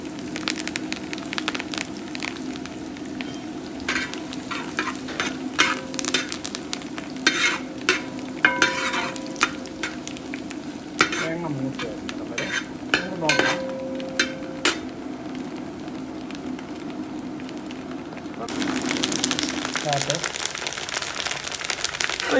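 Grated coconut roasts in a pan with curry leaves, giving a continuous close sizzle and crackle broken by scraping stirs of a spoon, with a louder burst of frying toward the end.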